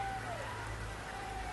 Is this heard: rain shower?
yes